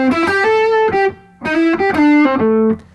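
Distorted electric guitar plays a short, punchy melodic lick in two phrases, with sustained bent notes and a brief pause between them.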